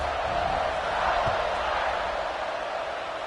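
A stadium crowd in a college football video game roars before the kickoff against Notre Dame, a steady wash of distant cheering that swells slightly partway through.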